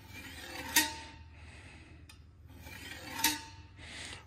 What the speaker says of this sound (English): as we're pulling it, we're pulling that burr over, kind of rolling or turning the burr, as they say.